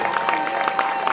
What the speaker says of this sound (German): Einen herzlichen Applaus für die Susi.